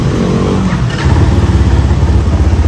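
Skygo Monarch Tempest 250 motorcycle with fuel injection and electric start, no kickstarter, turning over at the press of a button and settling into a loud, steady, close idle with a rhythmic pulse.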